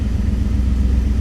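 A car engine idles steadily at about 900 RPM while warming up, with a close, continuous low rumble and a faint mechanical clatter and no variation in pace.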